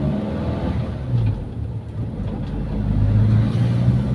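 Toyota Kijang engine fitted with a capsule carburetor revving steadily around 3000 rpm during a carburetor test, a close, continuous low drone that rises and settles with throttle, no talk.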